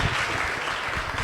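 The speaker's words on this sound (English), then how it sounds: "let's give her a round of applause" Audience clapping for a guest speaker at a live discussion event, a steady dense wash of hands that fills the whole moment at even loudness.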